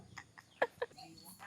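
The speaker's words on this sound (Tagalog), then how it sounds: "Mga manok yung kasama mo." Chickens at a camp giving a few soft, scattered clucks, faint and somewhat distant over quiet background murmur, with a couple of sharper calls standing out.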